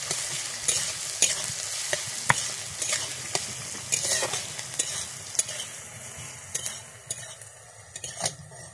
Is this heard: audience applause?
no